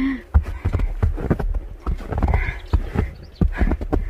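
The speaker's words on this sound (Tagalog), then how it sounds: "Ang ano ng boses ng apak, no? Parang crunchy." Footsteps crunch through snow in a steady walking rhythm, each step a close, gritty crunch, with faint background murmur.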